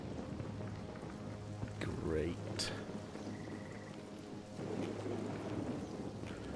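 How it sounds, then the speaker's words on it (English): Rain falls steadily through a wet forest in the game Closure, with a low rumble of thunder rolling underneath; a person speaks briefly over the soft hiss. "I'm in a wet, rainy forest with lightning"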